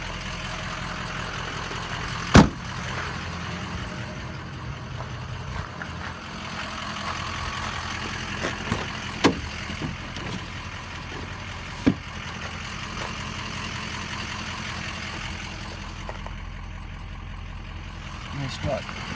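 A truck engine idles steadily at close range, a low continuous rumble running throughout with a few sharp clicks and knocks on top.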